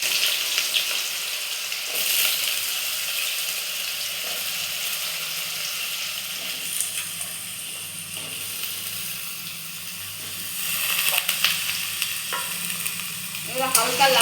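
Cut potatoes fry in hot oil with bay leaf for a Bengali banana flower and prawn dish, giving a continuous close sizzle and hiss with occasional stirring scrapes, steady throughout and louder near the end.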